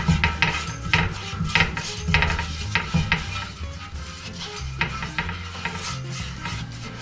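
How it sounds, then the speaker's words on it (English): Food browns in a little oil in a frying pan for a surf-and-turf pizza, with steady sizzling broken by scraping, stirring and the clatter of pan and utensils, all fairly loud and close with no talk. "we'll brown it off in the fry pan now. Just a little bit of oil in there"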